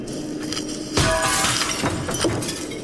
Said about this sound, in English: They shatter glass as easily as they pulverize a crab's shell.